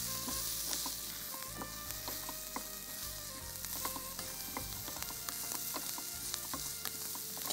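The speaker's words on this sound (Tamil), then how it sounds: "இந்த வெங்காயத்தோட கூட ஒரு சிட்டிகை உப்பு இது கொஞ்சம் வதங்கணும்." Onions with a pinch of salt sautéing in a pan, a steady broadband sizzle with scattered crackles and spatula scrapes throughout, close and continuous with no talk.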